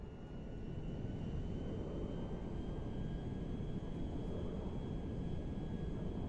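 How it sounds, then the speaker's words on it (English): A cargo jet in the video game GTA 5 gives a steady, broad engine roar with a faint whine above it, continuous and fairly distant, with no speech. "Ronnie, the cargo jet is now part of the TP Enterprise fleet"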